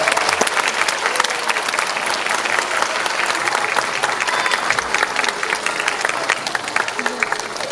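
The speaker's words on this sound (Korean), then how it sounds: "끝까지 뜨거운 박수 부탁드립니다" A large cinema audience in a packed theatre auditorium applauds continuously as cast members leave the stage at a film talk event, a dense, loud wash of clapping lasting several seconds with a voice faintly underneath.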